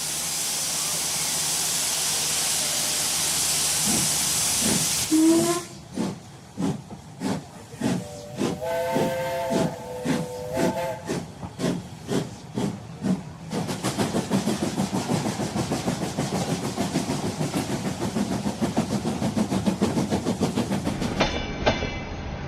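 A steam train: loud hissing steam, then rhythmic chuffing with a whistle sounding, building into a continuous rushing hiss as it gathers pace.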